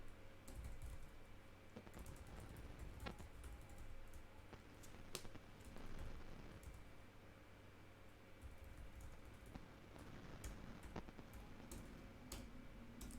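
Rapid typing on a computer keyboard, with irregular clusters of quiet key clicks and occasional sharper taps continuing for several seconds at close range under a low steady room hiss.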